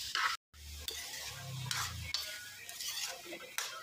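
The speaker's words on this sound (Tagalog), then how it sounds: "Mix lang natin yung ating adobo." Chicken adobo with tomato is stirred in a pan, a utensil scraping and clinking against metal in repeated strokes over a light sizzle, close by, with a brief silent gap near the start.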